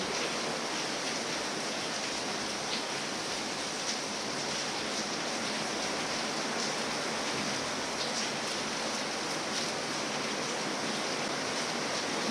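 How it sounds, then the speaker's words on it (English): Steady rain falling, a dense, even hiss of drops that carries on without a break for the whole stretch, moderately loud and close, with no voices and no other sounds over it. "The rain seems to continue."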